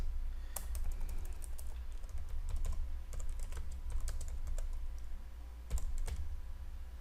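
Quiet, steady typing on a computer keyboard while entering a title into an Excel spreadsheet, irregular clicks of separate keystrokes over a low hum, with no talking.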